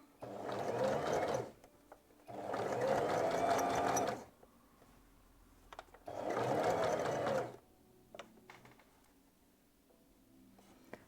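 A domestic sewing machine runs in three bursts of steady, close stitching along a seam guide, with brief quiet pauses between runs.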